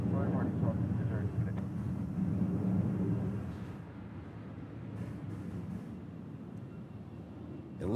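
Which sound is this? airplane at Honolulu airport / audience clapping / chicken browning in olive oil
airplane at Honolulu airport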